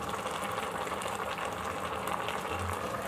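Adobong paksiw bubbling in a covered pot on the stove, a steady low simmering burble with soft gurgles, close and even throughout.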